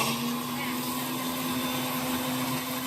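A kitchen mixer grinder blends masala into a paste for kaju paneer butter masala, giving a loud, steady whirring drone with a constant motor hum that runs throughout and cuts off at the very end.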